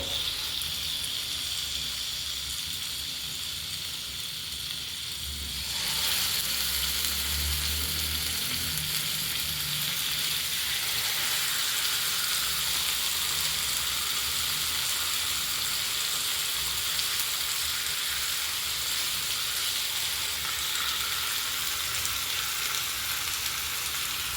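Tandoori chicken frying over a medium flame, a steady loud sizzle that swells as pieces hit the hot pan, with faint stirring, no voices.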